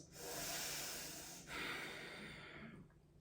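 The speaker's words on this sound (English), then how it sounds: "Drawing in deeper inhales, more forceful exhales." Deep, forceful breathing during a yoga session: long breathy rushes of air with a short break in the middle, close and fairly loud, with no talking.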